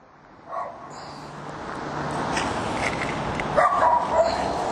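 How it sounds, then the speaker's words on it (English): Two dogs bark and yip from nearby in an outdoor setting, a few short sharp barks over steady background noise. "We got two dogs behind me."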